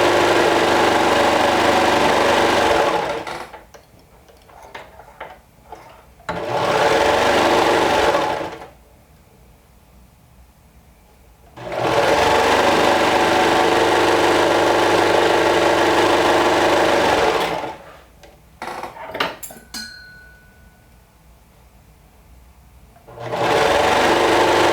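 A sewing machine stitches a knit cardigan neckband in several loud, steady whirring runs of a few seconds each, separated by quiet pauses with small handling clicks; nearby and with no talking.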